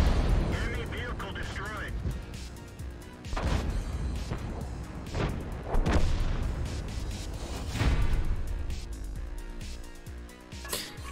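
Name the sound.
tank gun shot destroying enemy vehicle, World of Tanks video game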